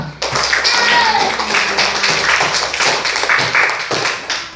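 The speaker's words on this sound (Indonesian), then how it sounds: "Tepuk tangan semua dulu" A primary-school class claps hands together during a science lesson, a loud burst of dense, scattered clapping close by, with a few voices mixed in.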